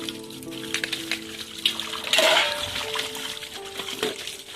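Tap water runs and splashes while dishes are washed in a village kitchen, a steady trickle with clinks and a louder splash in the middle, fairly close.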